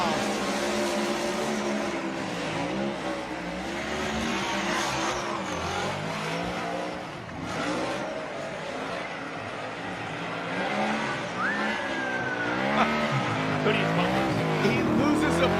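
A Pennzoil Ford Mustang RTR Spec 5D drift car runs at Formula Drift round 3 in Orlando, its engine revving hard and tires squealing continuously through the run, heard under steady commentary with crowd noise behind.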